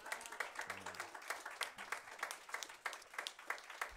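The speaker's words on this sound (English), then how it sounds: "Can we give God a hand clap of praise?" A church congregation claps together in a steady, dense round of applause as praise, faint and distant, with a few voices murmuring underneath.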